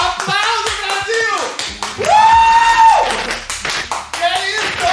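An audience claps in quick, scattered bursts that run the whole time beneath loud, excited voices that talk and sing over the top.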